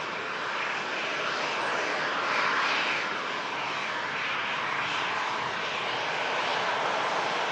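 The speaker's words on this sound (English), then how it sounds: "the British Airways A319 Airbus begins the takeoff roll from runway 23 left for departure" A British Airways Airbus A319 starts its takeoff roll from runway 23 left at Manchester Airport, its engines a loud, steady broadband roar that swells slightly around the middle and holds without interruption.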